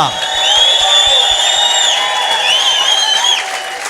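A church congregation claps loudly and continuously during a prophecy service, with high wavering voices and cheers rising over the applause.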